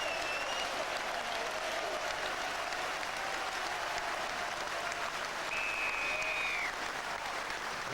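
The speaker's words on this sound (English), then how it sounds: "And I think the crowd will too here, as we wait to hear the applause for Vickery and Azam." Steady applause from a rugby stadium crowd at Gloucester as players leave the pitch, a dense, even wash of clapping with a faint whistle partway through.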